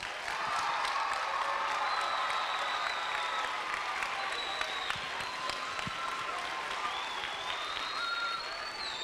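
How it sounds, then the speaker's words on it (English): A crowd in a renovated school gym applauds the school superintendent at a Celtics Shamrock Foundation event, steady clapping filling the room for several seconds with scattered whoops and faint voices underneath. "let's give a big round of applause to Jeff Riley"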